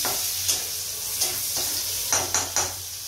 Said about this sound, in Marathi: पहिला तेल टाकून फोडणी करून घेतलेली